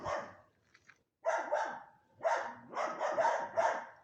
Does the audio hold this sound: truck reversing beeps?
no